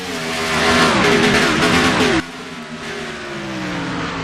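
Race cars at Phoenix Raceway roar loudly off a green flag start, engines revving hard and rising in pitch before one car's note drops as the pack thunders past, no voices.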